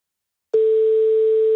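A steady telephone ringing tone on an outgoing call from a radio studio sounds alone after a brief silence, one continuous loud tone.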